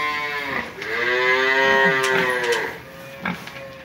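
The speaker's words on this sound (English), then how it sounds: "I'm here for the mooing." Cattle on a ranch on a cold, freezing day give a loud, drawn-out moo close by, followed by a shorter, fainter low call. No voices are heard.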